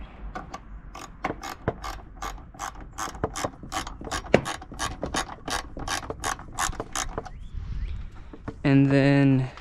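A hand ratchet clicks in quick, even bursts of pawl ticks while backing out a 10mm bolt on the intake box of a 2009-2011 Acura TSX. The clicking is close, and a voice comes in briefly at the end.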